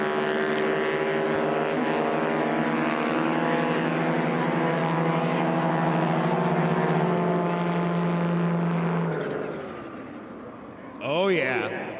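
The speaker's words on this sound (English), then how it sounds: "The Yamaha Sidewinder snowmobile engine just pumped up and turbocharged" A loud, steady engine drone with a strong harmonic hum from a Highlander XL light aircraft with a turbocharged Yamaha Sidewinder snowmobile engine in a STOL drag race holds, then fades into a rising and falling whine, with voices underneath.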